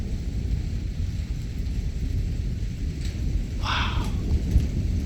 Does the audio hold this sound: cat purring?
no